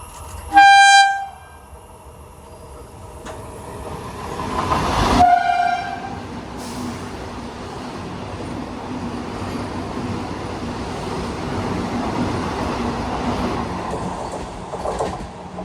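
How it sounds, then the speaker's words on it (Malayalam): The Bengaluru–Ernakulam Vande Bharat, an 8-car train, sounds a sharp horn blast and then a second blast as it nears, followed by a rising, continuous rumble of the train rushing past close by. "നമ്മുടെ ബംഗളൂരു എറണാകുളം വന്ദേ ഭാരതിൻ്റെ ലാസ്റ്റ് റണ്ണായിരുന്നു 8 കാർ വെച്ചുള്ള"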